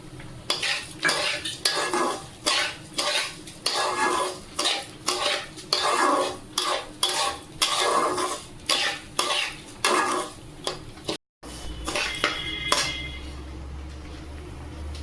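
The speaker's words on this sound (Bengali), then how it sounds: "তিন চার মিনিট ভেজে নেব বাদামটা দিয়ে দিলাম" Peanuts frying in a pan as khichuri is cooked, stirred with a utensil in steady repeated scrapes and clatters, close and fairly loud, with a short gap and then quieter pan noise.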